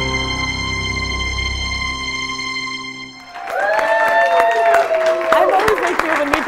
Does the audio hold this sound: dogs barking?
no